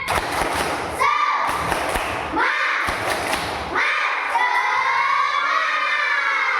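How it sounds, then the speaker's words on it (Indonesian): A classroom of schoolchildren performs a rhythmic spirit clap, sharp claps in quick patterned bursts mixed with their chanting voices, loud and close across the whole stretch. "Kita tes dulu, tepuk semangat."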